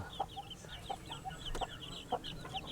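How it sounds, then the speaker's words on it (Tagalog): Chickens cluck repeatedly and chicks peep on a farm in San Jose del Monte, Bulacan, in a steady, close chorus of short calls with light background noise. "Papakita ko sa inyo yung mga sisiw namin na bago."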